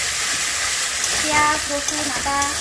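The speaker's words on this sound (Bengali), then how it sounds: "সুন্দর করে মশলাটাকে ভাজে নিচ্ছে" A ground paste of onion, garlic, ginger and meat spices fries in a pan with a continuous loud hiss. Brief tonal sounds rise over it near the end, and no words are spoken.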